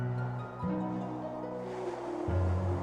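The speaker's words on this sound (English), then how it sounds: "The only thing I could hear was the sound of the waves." Ocean waves wash in a soft, steady roar at low level, with a slight swell midway, heard alone without voices.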